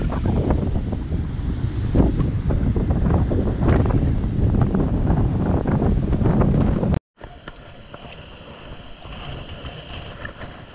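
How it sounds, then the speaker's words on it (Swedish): Strong coastal wind buffeting a parked car, a loud continuous roaring rumble that abruptly cuts, then resumes as a softer, steadier whoosh. "Det blåser rejält här ute, alltså hela bilen skakar."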